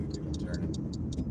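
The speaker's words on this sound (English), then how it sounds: "The blinker on the front still works" A car's front turn signal clicks steadily, about six even ticks spread over little more than a second, close by and clear over the low hum of the cabin.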